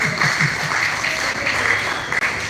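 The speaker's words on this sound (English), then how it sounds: "You can clap." An audience at a live motivational talk breaks into steady applause, a soft continuous wash of clapping with faint voices beneath.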